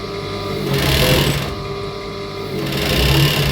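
A sewing machine runs steadily, stitching fabric for two-piece night wear in a bulk production workshop, with a continuous motor whir that swells slightly in two bursts, close and alone.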